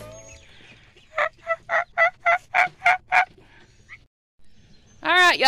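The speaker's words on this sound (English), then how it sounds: "See the turkeys?" A turkey gobbles nearby in a rapid string of about nine rattling calls, and after a short pause another loud call begins.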